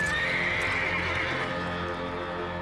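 A horse neighs in a long, shrill whinny over a steady background, with hoof clops faintly mixed in.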